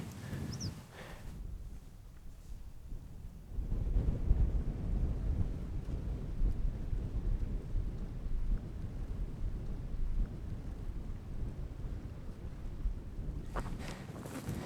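Wind gusts at a Swedish lake shore during a fishing trip, a low buffeting rumble against the microphone that swells after a quieter start and holds steady, with no talking.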